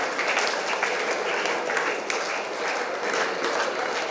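Students applauding loudly at a Kannada Rajyotsava celebration at St. Raymond's pre-university college, a dense, sustained wash of many hands clapping with no talk.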